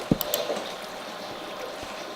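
Water in a desert survival video game, a couple of quick splashy pours and trickles at the start, then a thin lingering wash, fairly close and alone.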